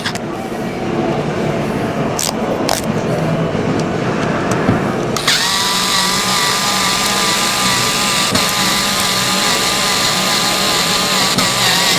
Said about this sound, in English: So what we have to do is take all these security screws out of here. So, and I got my power screwdriver for this.